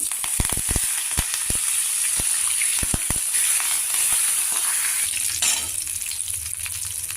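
Tempering oil with chana dal, dried chilli and asafoetida sizzles in a pan for a bitter gourd curry, a bright steady hiss broken by several sharp spoon clinks against the vessel.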